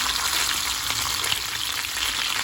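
Dalagang bukid fish (redbelly yellowtail fusilier) crackles and sizzles steadily in a hot pan, a dense, continuous hiss up close with no voices.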